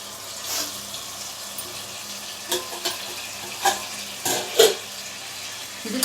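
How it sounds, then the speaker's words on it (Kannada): Field beans and peas fry in oil in a pan, giving a quiet, steady background sizzle broken by a few brief louder scrapes and clatters from stirring. "ಇದೆಲ್ಲ ಸ್ವಲ್ಪ ಹೊತ್ತು ಎಣ್ಣೆಲಿ ಬೆಂದರೆ ರುಚಿ ಚೆನ್ನಾಗಿರುತ್ತೆ ಬಾತು."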